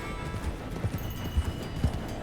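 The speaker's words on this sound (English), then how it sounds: "I see one horse." Horses in the Red Dead Redemption 2 video game clip-clop with a few irregular hoof thuds over soft ambience, close and moderately loud, with no speech.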